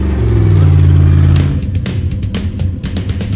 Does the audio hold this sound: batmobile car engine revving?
yes